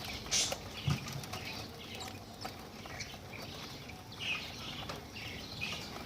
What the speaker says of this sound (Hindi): ये ज़ेब्रा फिंच बॉयल्ड चावल खाना शुरू हो गई हैं। ये देखें, ये आपस में लड़ भी रही हैं।